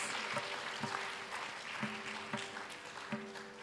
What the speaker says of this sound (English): Shall we have another round of applause for that wonderful performance?